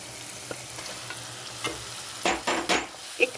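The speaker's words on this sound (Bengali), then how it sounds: "একটু সামান্য একটু ভেজে নিব পেঁয়াজ কাঁচা মরিচের সাথে" Chicken mince sizzles in a pan with onion and green chili for keema paratha, a steady crackling fry broken by a few louder scraping stirs near the end.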